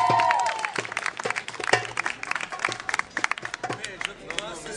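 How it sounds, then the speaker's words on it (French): Applause from a theatre forum audience: a room of people clapping in sharp, uneven bursts that grow denser toward the end, with some talking underneath. "On vous applaudit bien fort."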